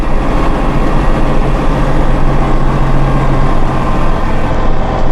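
A Massey Ferguson compact tractor with a deluxe cab and eHST controls runs steadily close by, its engine giving a continuous low, heavy drone with no talk over it.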